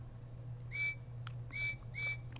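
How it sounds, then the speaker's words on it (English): Bachmann G scale Percy toy train giving a short electronic whistle, three brief tooted notes in quick succession over a low steady hum, fairly faint. "3 is short whistle"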